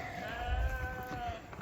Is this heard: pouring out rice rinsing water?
no